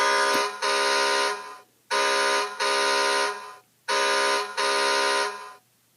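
The electronic horn of a 2013 Hess toy truck blares in four harsh, buzzy bursts, grouped in pairs with short gaps between, loud and close with no talking.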